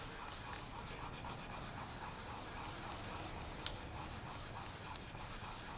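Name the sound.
burnishing polymer clay vigorously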